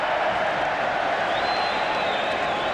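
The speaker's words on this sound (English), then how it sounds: "the more the sarcastic applause and cheering from this crowd here in Chicago" Steady, dense applause and cheering from a hockey crowd in a Chicago arena during a 1987 Blackhawks–Bruins game, a continuous roar filling the whole stretch with no break.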